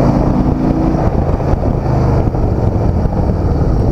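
A steady, loud 2016 Harley-Davidson Softail Deluxe motorcycle engine with a 103 engine accelerating, mixed with rushing wind noise, continuous and close, like riding at speed.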